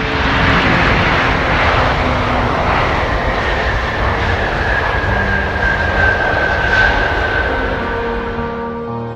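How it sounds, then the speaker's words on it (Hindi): The engines of an Antonov An-225, a giant cargo aircraft, roar as a loud, steady broadband rumble with a faint whine, sustained for several seconds and gently fading at the end, with no voices. "एंटोनोव AN-225 एक ऐसा जहाज़ जिसे दुनिया का सबसे बड़ा जहाज़ होने का एजाज़ हासिल"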